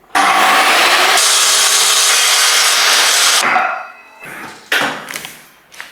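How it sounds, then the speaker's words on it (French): A wooden kitchen back panel being cut with a power saw, a loud continuous rasping drone for about three seconds, then a pause and a shorter burst of cutting close by. "Scie."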